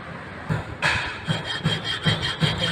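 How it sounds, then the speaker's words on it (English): Hand file worked across a metal workpiece while bringing it down to its final dimension, giving a series of regular rasping strokes, close and moderately loud, about five or six in quick rhythm with no talk. "Still we need to do more filing"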